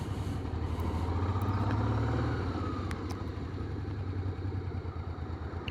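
A motorcycle rides along a road on the way back from a rock festival, its mid-pitched engine droning steadily close by with a slight rise and fall in revs and wind rush throughout.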